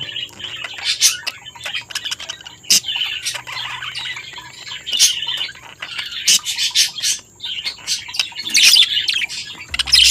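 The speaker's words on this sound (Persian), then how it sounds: "مرغ عشق زمانی این صدای ناهنجار رو در میاره" Budgerigar calls, harsh chirps and squawks come in bursts, close and fairly loud, with short gaps between them.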